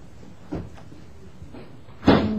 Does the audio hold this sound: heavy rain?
no